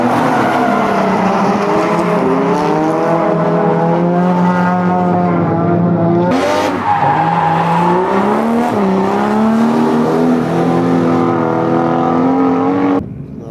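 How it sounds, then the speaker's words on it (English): A Mazda drift car engine at Mobara Circuit strains loudly uphill, its harmonic drone rising and falling as it climbs, with a brief sharp burst midway and a cutoff at the end. "Little Mazda struggling up the hill."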